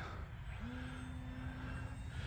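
An E-flite Extra 300 radio-controlled aerobatic airplane flying in calm air, its electric motor giving a steady, moderately distant drone with a rising tonal whine partway through, alone without talking.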